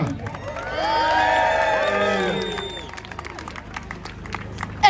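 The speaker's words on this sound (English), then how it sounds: "let's have a big round of applause for Hadika" A crowd at a Manchester rally for Palestine cheers, whistles and claps for someone speaker, loud shouts and whoops swelling for a couple of seconds before settling into scattered clapping.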